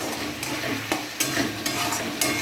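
Spices fry and are stirred in a hot pan, a steady close sizzle running throughout. Periodic scraping strokes of the spoon cut through about every half second to a second.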